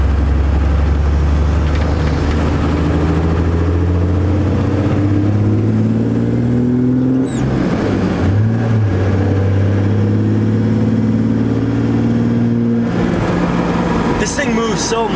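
A 12V Cummins truck with a 5-speed manual accelerating hard, its deep diesel exhaust drone climbing in pitch through the gears, loud and steady with a brief dip at a shift.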